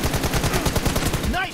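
Rapid automatic M416 assault rifle fire from a video game, a dense burst of loud, close shots hammering without pause for over a second before a brief ringing tone.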